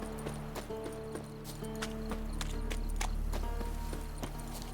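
Roach the horse's hooves clip-clop steadily in The Witcher 3, a close, even walking rhythm over game music and ambience, with no talking.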